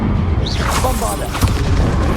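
A Bombarda blasting spell detonates in Hogwarts Legacy combat, a short loud boom with a muffled low thud and a whooshing spell effect, under a game voice.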